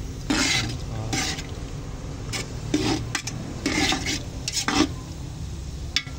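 Beef for beef pares being stirred in a pan, a spatula scraping in repeated short strokes over a soft background sizzle, close and fairly quiet.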